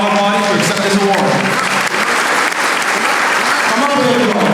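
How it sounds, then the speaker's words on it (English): A room full of people at a small business recognition awards ceremony clap for an auto body shop owner receiving an award, loud and sustained, with a few voices and cheers mixed in under the applause. "give him a round of applause"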